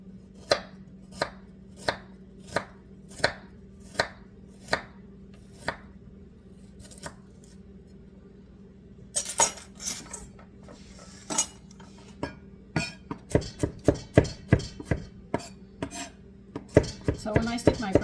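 Knife chopping large garlic on a cutting board while making meatball soup: sharp, evenly spaced single chops at first, then quicker irregular bursts of rapid chopping, close and crisp against a quiet kitchen hum.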